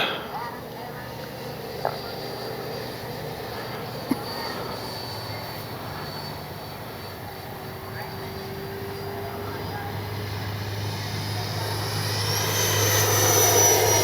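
A Freewing L-15 4S RC jet flies inverted overhead, its electric fan giving a thin, steady whine at moderate distance that swells louder toward the end, with a couple of faint clicks.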